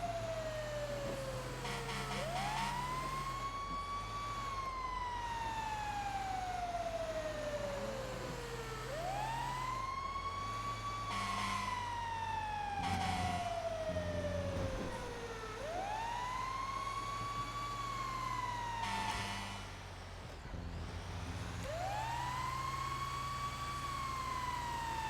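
A fire engine siren from a roleplay video game wails in long rising and falling sweeps, repeated about four times, loud and close over a steady low engine rumble, with no talking.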